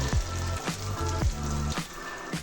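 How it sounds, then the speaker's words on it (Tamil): Freshly ground masala paste frying in hot oil for a pea kurma, a loud close sizzle with several sharp stirring scrapes spaced through it. "இந்த மசாலா பேஸ்ட்டை நல்லா எண்ணெயில் வதக்கி கொடுத்துக்கலாம்."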